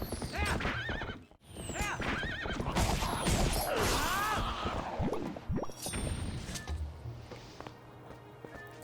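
Horse in The Legend of Zelda: Twilight Princess whinnying several times and galloping with clip-clop hooves, loud and close, game effects in the background and no talk.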